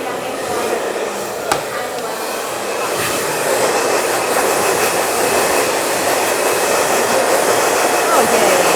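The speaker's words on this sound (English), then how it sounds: "You get the double blow dry." A handheld hair dryer blows steadily during a bob haircut with bangs, a continuous loud, close whoosh that holds for the whole stretch without a break.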